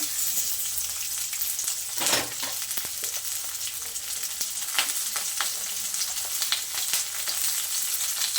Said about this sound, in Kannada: ಶುಂಠಿ ಸೇರಿಸ್ಕೊತಾ ಇದ್ದೀನಿ ಇವೆಲ್ಲ ಆಯಿಲಲ್ಲಿ ಚೆನ್ನಾಗಿ ಫ್ರೈ ಆಗಬೇಕು